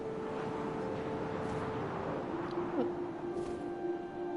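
In the video game What Remains of Edith Finch, an owl gives soft hoots over a steady low rumble of wind, with faint brief rustles nearby.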